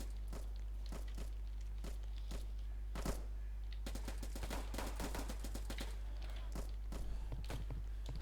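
Rapid gunfire in a Roblox First World War shooting game, with repeated single shots and quick bursts throughout, crisp and fairly close over a steady low hum.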